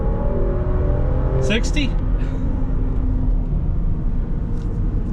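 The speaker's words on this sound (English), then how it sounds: "Let's do a quick 0 to 60. Dead stop. Ready, set, go." 2024 Land Rover Defender 130 Outbound accelerating hard from a dead stop to 60 mph, a loud steady engine and road rumble heard from inside the cabin while a person speaks briefly over it.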